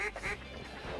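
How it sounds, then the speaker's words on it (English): Wild geese call overhead during a hunt over a pea field: a quick series of loud, honking cries, close together and fairly near, filling about a second. "a bunch of birds coming, boys. Yeah. Geese Way over the trees."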